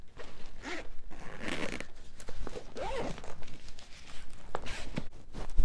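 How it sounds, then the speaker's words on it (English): A zipper is pulled shut on a packed personal-item travel bag sized 18x14x8, with several close, scratchy runs and rustling handling between them, and no voices. "We'll just go ahead and close that, zip it up."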